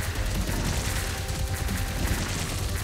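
Gunfire crackles in a shooter game, a dense, continuous burst of rapid shots and impacts filling the whole moment, loud and close without any talk.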